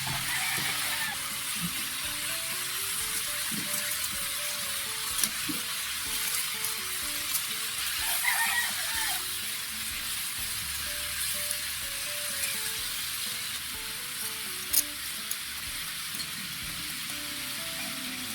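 Moonfish cooks in a pan, giving off a steady, moderately loud sizzle and bubbling boil that runs the whole time, broken by a few brief clinks and stirring noises.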